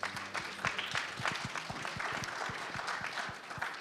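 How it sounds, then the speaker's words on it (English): An audience at a national ICT summit applauds the panelists with steady, dense clapping that fills the room for several seconds, close and continuous, with no talking. "Can we give them a big round of applause?"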